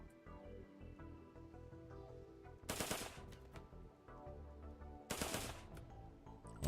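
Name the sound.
assault rifle gunfire in video game RimWorld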